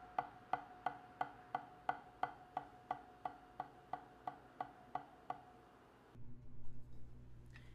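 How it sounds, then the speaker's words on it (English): Drumsticks tapping out a stick control exercise with no accents: a steady run of about sixteen even, crisp clicks at equal loudness, fairly quiet and close, then a stop and faint room rustle. "First, I'll play the exercise without accents."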